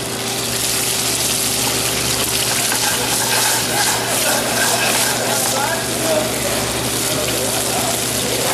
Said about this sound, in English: With sauteing, I always put the flesh side down because I want to sear this.